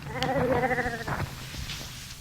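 A sheep bleats once, a wavering nasal cry, followed by a shorter call, fairly quiet against a soft outdoor background.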